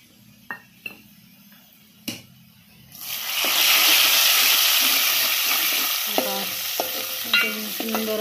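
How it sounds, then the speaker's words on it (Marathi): Crushed coconut and garlic sauté in a hot pan, a steady broadband sizzle that swells in after a few sharp utensil taps and carries on with scattered spoon scrapes and clinks against the pan. "खोबरं पण छान परतून घ्यायचं आहे."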